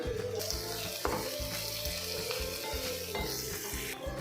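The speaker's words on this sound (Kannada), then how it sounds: "ಇಲ್ಲಿ ಆನಿಯನ್ನ ಚೆನ್ನಾಗಿ ಫ್ರೈ ಆಗಿದೆ." Onions fry in a pan for a flat bean palya, with a steady loud sizzle and periodic stirring scrapes in a regular rhythm, close up and without talk.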